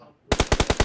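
Automatic weapon fire in PUBG Mobile on the Livik map: a burst of six rapid, loud, evenly spaced shots breaking out of near silence.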